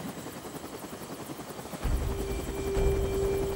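A helicopter's rotor chop and turbine whine build up strongly partway through, a dense, steady thudding roar with a rising engine tone that stays loud and close.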